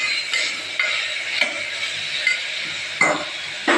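A spoon stirs salted cauliflower and peanut gravy in a pan, making soft scraping and occasional light clinks against the metal over a steady, faint background hiss.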